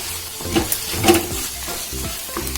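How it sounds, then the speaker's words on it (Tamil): Coriander leaves sautéing in a pan while sambar rice is made, a steady soft sizzle with a few scraping stirs of a spoon near the middle and end, close and moderately loud, no talking. "கொத்தமல்லி போட்டு நம்ம ஃபர்ஸ்ட் கொஞ்சம் நேரம் வதக்கிட்டு"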